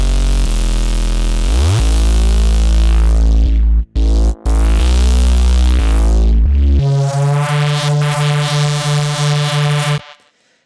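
Distorted fuzz Reese bass synth built in Phase Plant with noise layered in, a loud raw buzzing bass played in sustained notes that step in pitch, with two brief dropouts midway and a final held note cutting off abruptly.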